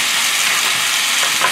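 Leftover bow tie pasta stir-frying with jumbo shrimp in a hot pan, a loud, close, steady hiss of sizzling oil with a brief stir near the end.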